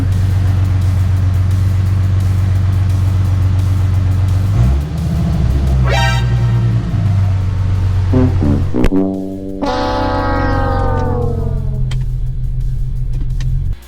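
An Infiniti G37 sedan, freshly fitted with a swapped transmission, idles in gear with its wheels spinning; a steady engine drone shifts pitch partway through, with rising whines and a sharp clunk before a falling tone fades.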